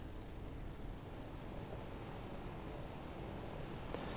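Fw-190 A-8 radial engine running at a steady low roar in the DCS flight simulator as the throttle is eased up, a continuous dense rumble with no speech.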